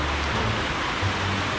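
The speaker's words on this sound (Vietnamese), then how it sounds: "Trời mưa không mà nắng vậy" Rain falls during a sunshower as a steady, even hiss of drops close by, with no voices.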